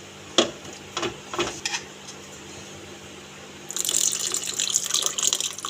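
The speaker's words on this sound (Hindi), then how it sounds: "अब हम इसमें थोड़ा सा पानी ऐड करेंगे।" Water pours into mango puree in a pan, a steady splashing stream starting partway through after a few faint knocks and clinks.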